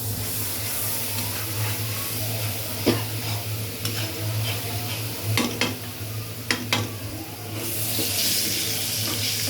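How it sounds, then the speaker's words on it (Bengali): Spices are stirred and fried in a pan for beef tehari, a steady close sizzle with a low background hum, broken by a few sharp scrapes of the spatula against the pan. "দিয়ে এখন একটু ভালো করে কষিয়ে নিতে হবে। তো আমি কষাচ্ছি।"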